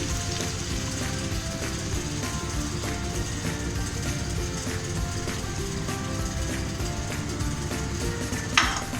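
Whisked yogurt sizzles over low heat in a mutton karahi pan, a steady close frying hiss with scattered stirring clinks throughout and no talk.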